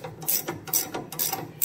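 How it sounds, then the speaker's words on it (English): Ratchet wrench loosening a sway bar bolt on a Dodge Ram 1500 5.7, with a close, loud, rapid clicking of the pawl in several quick bursts of turns. "I can just go in with a ratcheting style and I can just loosen this all the way up."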